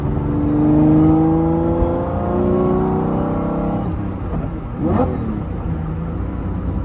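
Lamborghini Diablo accelerating hard in a quick pull, the engine note climbing loudly and steadily for a few seconds before easing off into a lower cruising drone in third gear.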